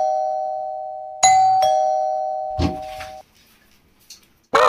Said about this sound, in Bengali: কলিং বেলের আওয়াজ শুনে